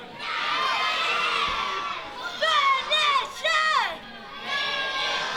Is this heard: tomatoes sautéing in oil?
no